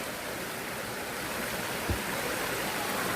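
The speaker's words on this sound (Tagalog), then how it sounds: "parang sapa lang siya talaga" Water from a rocky mountain stream rushes steadily, close and loud, as a continuous broadband flow with a brief low thump near the middle.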